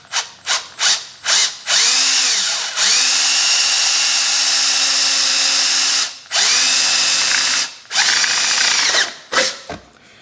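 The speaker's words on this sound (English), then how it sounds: "But I'm going to drill, I'm probably going to have to do 2 holes." Power drill boring a hole through the exhaust pipe of a 2000 Kawasaki KX125 near the seam, several short trigger bursts followed by long steady whining runs that slow and restart, close and loud with no talking.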